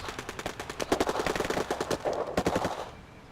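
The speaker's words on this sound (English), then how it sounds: "Bit of a firefight going on." Rapid bursts of automatic gunfire from a firefight in the strategy game Rebel Inc, dense overlapping volleys that build and then trail off, loud and close.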